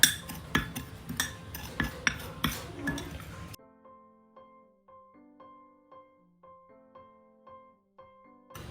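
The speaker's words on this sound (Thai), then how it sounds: "เราต้อง ผสมทั้งสองส่วนนี้ให้เข้ากันก่อนนะคะ" A spoon stirs a coffee and corn starch mixture in a small bowl or glass, with rapid, close, regular clinks of metal on the container for about three seconds, then quiet.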